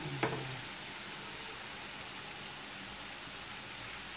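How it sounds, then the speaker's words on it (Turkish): Samsun-style çörek dough frying in hot oil gives a steady, faint crackling sizzle, with a brief clatter right at the start. "kızgın yağın içinde pişiriyoruz"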